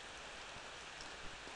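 Steady rain falls in the horror video game Ao Oni, a continuous, even hiss of rainfall heard on its own for a brief stretch.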